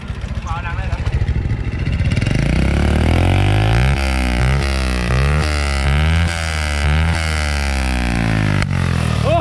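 A Honda Wave 100 motorcycle with its stock exhaust idles close by, then is revved repeatedly in rising and falling bursts, a loud single-cylinder engine note climbing and dropping several times while people talk over it.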